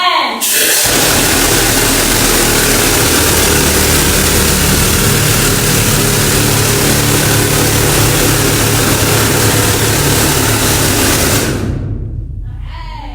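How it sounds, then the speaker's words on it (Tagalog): Old air compressors at the Britannia Mine Museum roar at full volume for about ten seconds, a dense, steady mechanical blast that begins abruptly and fades out at the end. "All right, air compressors on. We are going to have a loud noise in 3, 2, 1."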